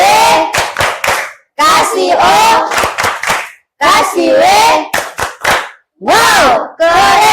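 A group of students plays the Indonesian clapping game 'tepuk wow' in a classroom, with sharp bursts of rhythmic clapping alternating with loud shouted chants and pauses between phrases.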